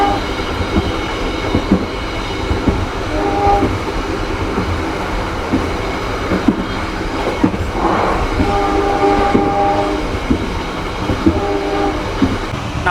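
A Sri Tanjung economy-class train runs with a continuous rumble and rhythmic wheel clatter, heard from inside a crowded passenger car, with scattered knocks and clanks throughout.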